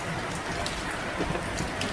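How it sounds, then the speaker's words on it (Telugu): Heavy rain pours steadily onto a building, a dense, continuous hiss of drops with no pauses or voices. "బిల్డింగ్ మీద వర్షాలు అయితే ఘోరంగా ఉన్నాయి"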